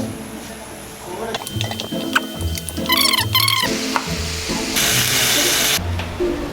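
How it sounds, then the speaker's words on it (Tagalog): Adobo sizzles and fries in a pan, a steady close hiss with stirring clatter and scraping, interrupted by brief squeaky chirps, with no clear talking. "Ako na muna ang magluluto nitong adobo."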